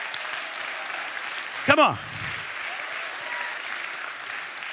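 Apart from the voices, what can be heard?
audience applause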